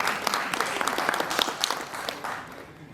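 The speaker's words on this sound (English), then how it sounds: "Let's give them applause." An audience at a school pitch event breaks into brisk applause, a dense patter of many hands at moderate volume that thins and fades toward the end.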